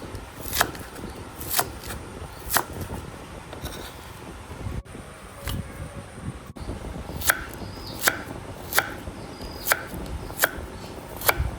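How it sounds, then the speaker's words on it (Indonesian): A knife chops freshly harvested vegetables for boiling, sharp distinct cuts landing in a steady rhythm about once a second, close and crisp against a quiet background. "Ini langsung kita potong kayak gini karena mau direbus, dicocol."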